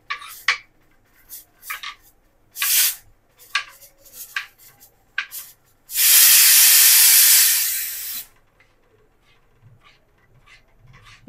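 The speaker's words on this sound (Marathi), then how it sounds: "इथे तुम्हाला ऐकू येतच असेल कुकरच्या ऑलरेडी 2 शिट्ट्या झालेल्या आहेत" A pressure cooker lets out one loud, sustained steam whistle for about two seconds in a home kitchen while egg masala is cooked, set among sharp clinks and clatters of utensils before and after.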